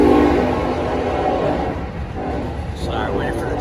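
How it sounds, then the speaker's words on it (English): A train rumbles past nearby with a steady low roar and clatter, continuous throughout, with faint higher squeals toward the end. "Sorry, waiting for the train."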